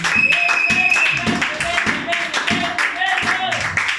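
Congregation clapping in church during a revival service, rhythmic hand claps in quick repeated bursts mixed with voices calling out and singing over them.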